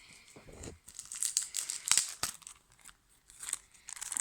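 Foil wrapper of a Brawl Stars trading card pack being torn open and crinkled up close, several loud ripping and crackling bursts with short pauses between them.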